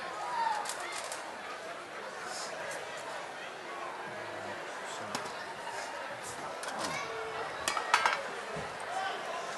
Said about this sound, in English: Lots of chopping.